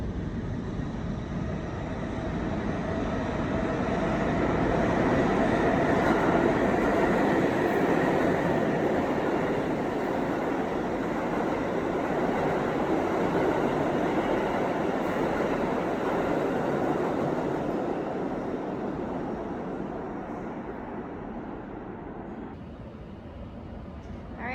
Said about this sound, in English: train should be coming up, my subway.